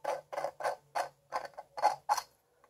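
A 3D-printed plastic bird-shaped container is twisted open by hand, giving a quick run of about eight short creaking, grinding clicks in an uneven rhythm, close and fairly quiet, with no voices.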